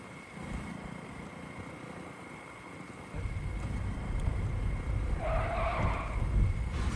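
A car pulls up and skids to a halt on a busy street where a crowd has gathered. Steady rumbling road noise builds, then a short, sharp tire screech rises near the end.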